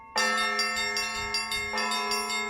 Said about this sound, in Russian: Однако главное событие – это звоны лучших мастеров России